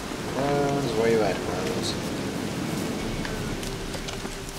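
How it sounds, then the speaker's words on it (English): Rain falling in The Witcher 3 Wild Hunt video game: a steady hiss of rainfall across the whole stretch, with someone talking over it at first. "it's raining once again."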